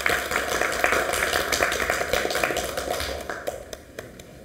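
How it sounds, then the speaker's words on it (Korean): Audience clapping at a political committee event, a crisp burst of many hands clapping at fairly close range that thins out toward the end. "박수로 크게."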